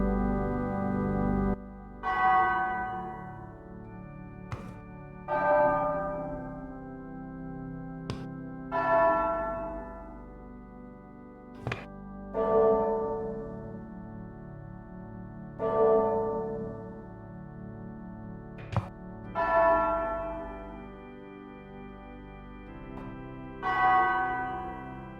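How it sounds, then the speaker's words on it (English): Church bells ringing in the video game Lucy Dreaming: a series of resonant, loud strikes spaced a few seconds apart, each ringing out and slowly decaying, heard alone. "It rings one of the church bells above."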